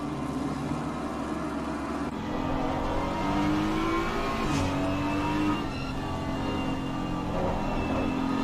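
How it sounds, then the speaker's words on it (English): A BMW race car engine revs hard and climbs through gears at Spa, pitch rising and dropping with each shift, a sustained loud mechanical roar. "can just hear the sound of this BMW. Just how that car dumps when he gears up"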